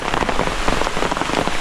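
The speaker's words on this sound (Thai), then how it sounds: "ฝนเล่นงานแล้วพี่น้องเอ้ย" Heavy rain pours down outdoors in a loud, dense, continuous hiss of drops pattering on surfaces, with no voices.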